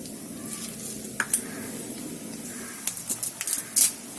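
Fenugreek and fennel seeds fry in hot oil in a clay pot, a steady low sizzle broken by a few sharp pops and crackles toward the end.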